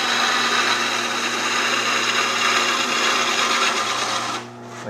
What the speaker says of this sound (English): if you pull it this way and slice it, it'll cut into the little bumps and it'll clean them right off